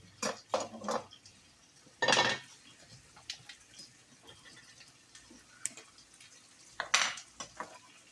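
A knife scrapes and clinks against a plate while a flatbread pizza is cut in half, with several short sharp clatters spaced out over quiet, close-up pauses.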